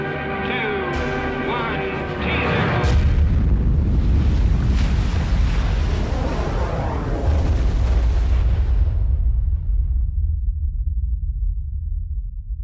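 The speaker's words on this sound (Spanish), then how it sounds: "La potencia de la explosión es similar a la de 10 millones de toneladas de TNT" Thermonuclear bomb test explosion of about ten megatons: a sustained, loud low rumbling roar with broadband blast noise that swells after a brief lead-in, holds for several seconds, then decays into a fading low rumble.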